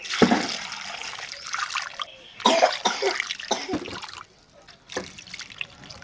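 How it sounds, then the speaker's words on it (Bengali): Water is poured into a cooking pot of cut fish in a home kitchen, with splashing bursts in short pours separated by pauses, close and moderately loud. "এবার দেব জল।"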